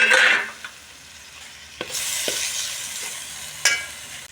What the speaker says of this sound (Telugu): ఈ ఆనియన్ మసాలా పేస్ట్ అంతా బాగా ఫ్రై అయిపోవాలి చూడండి ఆయిల్ బాగా పైకి వచ్చింది